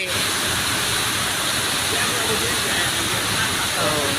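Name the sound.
rain falling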